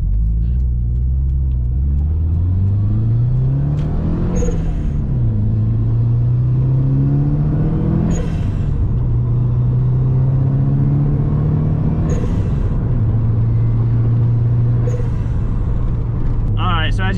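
A Subaru WRX engine drones inside the cabin while driving, rising in pitch through each gear and dropping at every shift, with four clear upshifts over a steady loud rumble.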